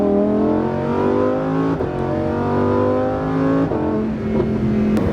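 A Lamborghini Huracan Performante accelerates hard with a loud, continuous engine roar that climbs in pitch, broken by two quick, smooth gear shifts that briefly drop the revs before pulling again.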